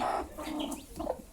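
Native hens clucking while being fed, several soft close clucks and brief calls in an irregular pattern, fairly quiet and without speech.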